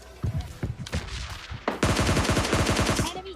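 Rapid automatic gunfire from a PUBG Lite match, a few scattered shots followed by a sustained loud burst of close-range bursts, with no talking.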